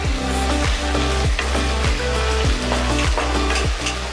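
Ginger garlic paste sautéing in a hot pan while it is being prepared for a spicy chicken fry, a steady loud sizzle broken by regular scraping strokes of a spoon about every half second.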